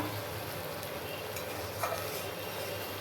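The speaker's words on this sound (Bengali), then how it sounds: "তার মধ্যে হলুদ গুঁড়ো লঙ্কা গুঁড়ো কাশ্মীরি লঙ্কা গুঁড়ো দিয়ে যে কষাচ্ছি" Tomato paste, cumin paste, ginger paste, turmeric and chili powder are sautéing in a pan, giving a steady, even hiss of frying with a faint scrape partway through.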